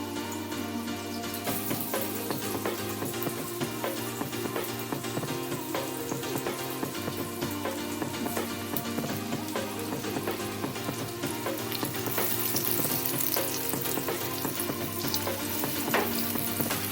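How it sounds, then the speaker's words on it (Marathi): Crispy snacks deep-frying in hot oil, a steady dense sizzle and crackle running throughout, close and loud with no voices. "हे बघा, वन साइड मस्त फ्राय झालंय."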